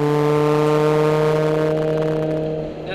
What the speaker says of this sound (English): It's just a heavy, raspy, open noise that four-cylinder engines give off.